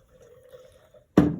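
After a quiet stretch, water is poured through a small funnel into the tank of a Polti Cimex Eradicator steam cleaner, giving a sudden, close, splashy gush at the very end.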